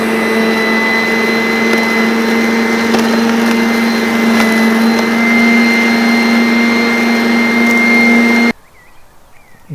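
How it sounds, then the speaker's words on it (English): An electric lawn raker runs steadily with a loud, constant motor whine and a droning hum as it rakes across a spring lawn, continuing without a break until it cuts off abruptly near the end. "Safety button in, let's give it a rake."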